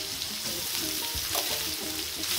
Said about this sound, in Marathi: आणि सर्व हलवून घेतो आपण.